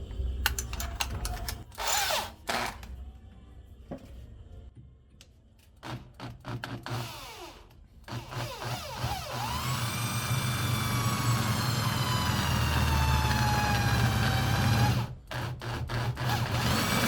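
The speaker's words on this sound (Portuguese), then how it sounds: "Fazer o teste aqui nesse metalão, ver se tá furando." An electric drill with a freshly sharpened bit bores into thick metal in a workshop, with short start-stop bursts first, then a long, steady whining run rising in strain before easing off, then a few more brief pulses.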